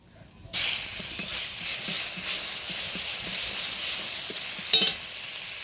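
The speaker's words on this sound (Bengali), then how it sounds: "এরপরে বেটে রাখা মশলাটা দিয়ে দেবো, তার আগে হলুদ গুঁড়ো দিয়ে দেবো, দিলে আর ছিটকাবে না" Ground spice paste, turmeric and panch phoron hitting hot oil in a pan: a sudden loud sizzle that settles into a continuous hiss and crackle with faint stirring, close up, and no talk.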